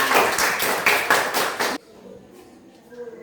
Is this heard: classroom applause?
yes